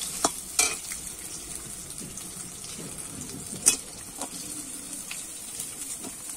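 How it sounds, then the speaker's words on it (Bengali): Soybean chunks fry in oil, a soft continuous sizzle broken by a few sharp clicks of a spoon stirring against the pan, with faint bird calls in the background. "দেখো এরকমই কিন্তু লাল লাল করে সোয়াবিনগুলো ভেজে নিতে হবে"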